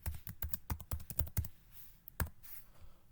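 Someone writing VHDL code at a computer keyboard: a quick burst of close, crisp keystrokes in irregular rhythm, then a pause and a few scattered taps.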